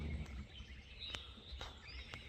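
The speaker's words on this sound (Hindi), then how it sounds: "चलो सर, चिड़ियों की आवाज़ें सुनिए।" Birds give faint, scattered chirps and short calls in a forest where deer roam, with a few sharp tweets spaced apart over a quiet background.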